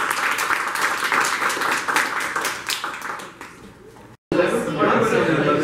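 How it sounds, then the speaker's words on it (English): Meetup attendees applaud themselves with steady, lively clapping and some chatter and laughter mixed in, fading off before a cut and noisy room sound. "Give yourselves a round of applause."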